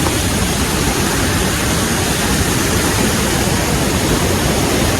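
A flooded river swollen after five dam gates were opened near Shahapur, Thane, with a bridge underwater. A loud, unbroken rushing roar of water fills the whole clip, close and without any pauses.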